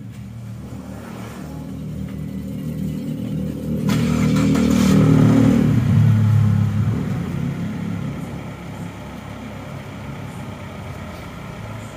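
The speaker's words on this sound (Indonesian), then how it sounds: "Nah sekarang ini kita coba dulu, kita starter dulu." A repaired Suzuki Escudo engine that had been burning oil starts up and revs, the rumble swelling to a loud peak mid-clip before settling back to a steady idle, close by with no talk.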